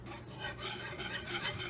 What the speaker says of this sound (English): Whisk that up together.